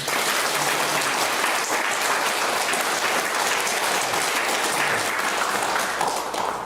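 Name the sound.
congregation applauding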